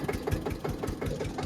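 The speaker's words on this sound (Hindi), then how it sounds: "चलो भाई ट्रैक्टर को लेके चलते हैं" A tractor engine idles and chugs in a fast, even knocking rhythm, close and steady, with no talk over it.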